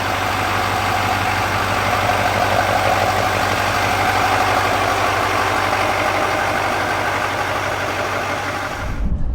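A 2024 Chevy Silverado 3500 dually pickup on new 18-inch wheels pulls out and drives, its engine a steady, close rumble with a rhythmic low drone that holds throughout before cutting off at the end.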